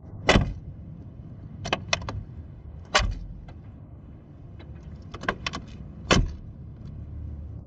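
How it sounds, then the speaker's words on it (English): Several sharp car door slams and clunks from a 2025 Mercedes G-Class Electric, spaced irregularly over a quiet outdoor background, some close and heavy, others lighter handle clicks. "Listen to the way the door handles close and how you have to slam the doors to close them."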